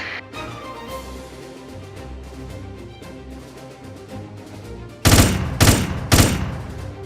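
Tank shells fire in the Tank Wars video game: three loud, sharp blasts in quick succession near the end, after a steady stretch of game music and effects.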